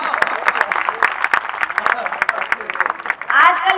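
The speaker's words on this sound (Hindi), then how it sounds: "समझ में आ गई तो ताली बजा दीजिए एक बार।" A crowd claps and cheers in a burst of applause while voices carry on over it, loud and lively throughout.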